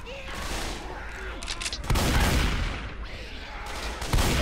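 Shotgun blasts in the Left 4 Dead 2 video game on Xbox One X, two heavy booms landing several seconds apart over a dense, noisy game soundscape with voices talking.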